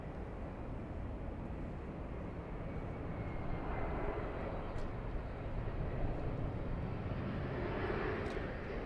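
A KLM airliner on approach to LAX produces a steady, broad jet roar with a low rumble. The sound holds for the whole stretch and grows slightly louder toward the end.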